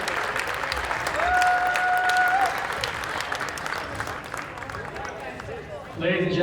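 A crowd in a high school girls' basketball gym applauds the seniors on senior night, with sustained, moderately loud clapping that carries steadily under a brief whistle-like tone and fades toward the end.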